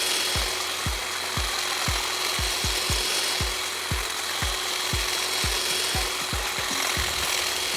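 Cordless STIHL HSA 26 shrub shears snip through a shrub in a steady run of about fifteen sharp, close cutting clicks over a constant motor whine, with no talking.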